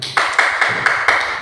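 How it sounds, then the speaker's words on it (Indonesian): A primary school class claps for a group of classmates in a few loud, close bursts. The claps come in quick rhythmic sets and stand out clearly, with almost no voice behind them. "Oke, tepuk tangan buat mereka."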